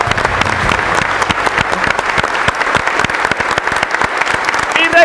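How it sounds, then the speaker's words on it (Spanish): Audience applause at an agricultural field day for a coffee research centre's extension service, dense steady clapping from a sizeable crowd that holds loud and even throughout. "Ahí pues el aplauso para Cenicafé."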